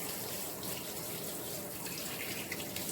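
Raw pork ribs rinsed under a running kitchen tap, a steady hiss and splash of water flowing continuously, close and moderately quiet, with no voices.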